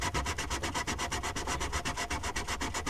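A sanding block rubs back and forth over a wooden boomerang in fast, even strokes, a close, rhythmic scratchy rasp repeating about seven times per second.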